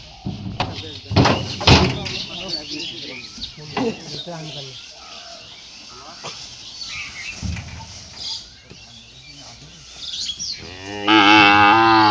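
Cattle, bulls at a farm, moo repeatedly and loudly while being loaded onto a hired truck, with door-like bangs and people talking throughout.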